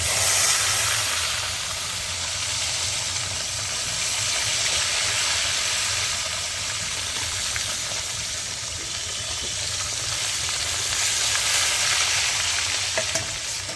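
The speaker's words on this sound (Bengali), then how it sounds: "আচ্ছা মাছটা ভেজে নিই" Fish sizzles steadily in hot oil in a home kitchen, a continuous bright crackle and hiss with occasional stirring, close and fairly loud, with no talking.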